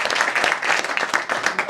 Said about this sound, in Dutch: Tommy vindt het leuk als die applaus krijgt